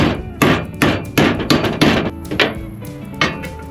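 A U-joint is hammered into a Dodge Dakota driveshaft, close metallic hammer strikes in a fast irregular series of about ten ringing blows, with no talking.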